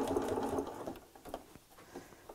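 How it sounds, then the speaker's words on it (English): A sewing machine with a universal needle stitches through the padded layers of a tea cosy, a close, quick mechanical whir for the first second, then slowing into softer, scattered clicks and taps. "You should be able to sew through the layers quite easily as well."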